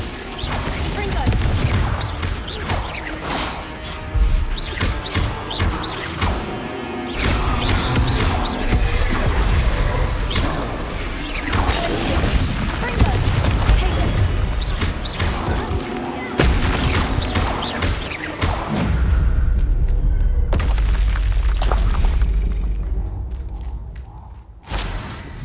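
Spells like Confringo, Stupefy and Glacius cast in Hogwarts Legacy make dense bursts of magical blasts, crackling impacts and booms that go on without a break, loud and busy, with a voice calling out over the combat.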